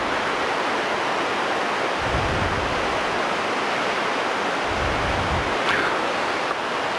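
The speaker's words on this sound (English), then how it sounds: "The sound of the waterfall. The rapids is coming down, near enough deafening." A waterfall and river rapids at Watersmeet pour down in a loud, steady, broadband roar that fills the whole stretch without a break, with faint low rumbles swelling underneath now and then.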